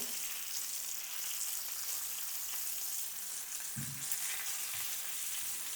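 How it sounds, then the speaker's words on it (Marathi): Pomfret fish fries in a pan over low to medium flame, giving a steady, even sizzle throughout with a low thump partway through. No one speaks. "आता ह्या साईडून हे आपल्याला 7 ते 8 मिनिटं असंच फ्राय करून घ्यायचं आहे, मीडियम फ्लेमवरती"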